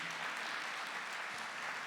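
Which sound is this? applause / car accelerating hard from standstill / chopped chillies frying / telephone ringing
applause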